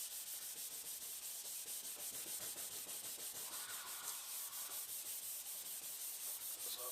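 A hand rubs wet car paintwork on a classic car under restoration, making a continuous fine, hissing scrub in quick regular back-and-forth strokes. It is steady and faint, with no voices.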